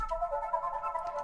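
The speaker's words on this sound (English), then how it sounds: "I put in a final Cymatics sample, which is an arpeggio." A synth arpeggio sample from Cymatics sits in the outro of a trap beat, a quiet, thin, whistle-like line of notes stepping steadily up and down over a faint low hum.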